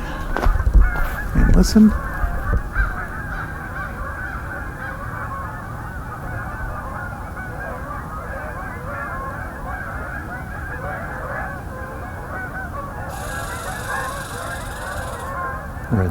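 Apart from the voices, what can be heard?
flight of Canada geese honking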